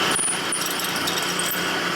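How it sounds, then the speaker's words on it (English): A machine tool spot-drills a 1958–1960 Harley-Davidson panhead cylinder head, giving a loud, steady grinding whir with rattling chatter and brief high squeals of cutting metal. "Turn the machine on, go down and spot it off a little bit."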